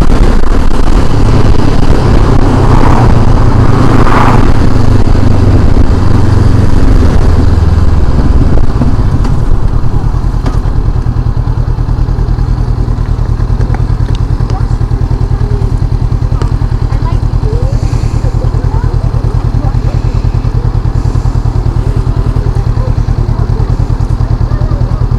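A Honda CB500X motorcycle rides and overtakes on an Indian road with a loud, continuous engine drone and wind rumble close at the microphone, while a rider's voice talks over it early on.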